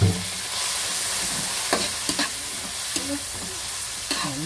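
Pork sizzles as it sautés in a pan with garlic and onion in oil, a steady frying hiss broken by stirring scrapes and clanks, close and fairly loud with no talking.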